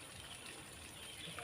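Water flowing back through a pump pipe after the motor switches off, a faint, low steady gush and trickle heard up close.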